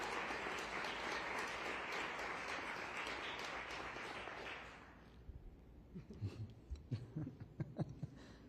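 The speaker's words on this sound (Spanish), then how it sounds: "Un aplauso," Audience applause at the Spain Pavilion presentation of the Venice Architecture Biennale, a dense burst of clapping for about five seconds that fades out, followed by scattered rustles and a few soft knocks.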